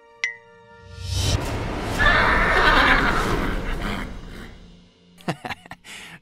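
Small horse neighing in an animated children's story, one loud drawn-out whinny rising and fading over a few seconds, bracketed by short bright tones and thumps.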